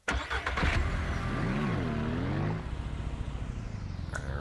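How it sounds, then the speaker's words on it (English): A video-game truck in a ranch-building game cranks its engine and starts, then revs and pulls away, the engine pitch rising and falling before settling into a steady idle rumble. "let's move the truck out of the way here a little bit."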